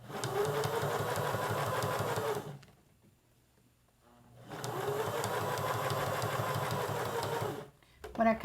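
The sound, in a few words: sewing machine straight stitching around a hot pad pouch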